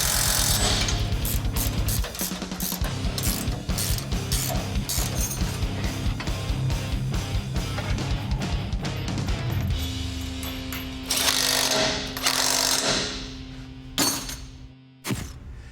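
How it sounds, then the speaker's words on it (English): Ratchet wrench hand-tightening transmission bellhousing bolts on a Ford F100 EcoBoost with a 5-speed manual, a rapid run of close metallic clicks in bursts with brief pauses and clanks of tool on metal. "I put a wrench on them and tighten them manually"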